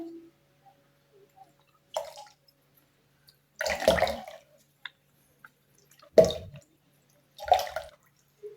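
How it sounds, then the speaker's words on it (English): White vinegar is poured and mixed at home, heard as a few separate close splashing, dripping bursts of liquid with silent gaps between them and no speech. "I'll be just mixing some white vinegar right here."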